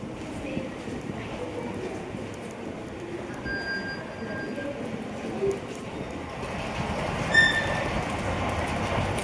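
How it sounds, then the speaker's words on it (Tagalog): Station ambience at a Madrid train station, a steady rumble of passing rail cars with faint wheel squeals and clatter, brief tonal whines overhead and a louder clank near the end, with distant voices mixed in. "kailangan naming pumunta dito sa train station"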